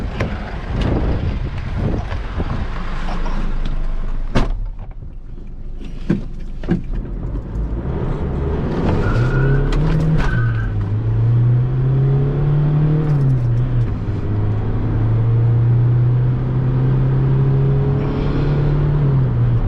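A remapped 3.0-litre Isuzu D-Max pickup engine accelerates while driving, rising from a low rumble into a strong droning pull that climbs and holds across several seconds, heard close with no talking.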